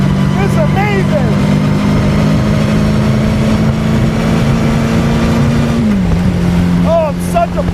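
1927 Bugatti Type 51 engine revving while driving, a loud, steady, buzzy drone with a slight drop in pitch near the end, with excited voices shouting over it.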